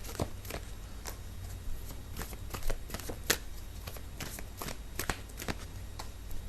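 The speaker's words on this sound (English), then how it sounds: "I need to pull out a few more cards." Tarot cards are shuffled and drawn, a soft, continuous riffling and slapping of card stock with irregular crisp snaps, close and fairly quiet with no talk.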